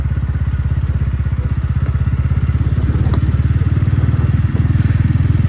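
A motorcycle engine runs close and loud throughout a ride to a fair, with a steady rapid low throb and no talk over it.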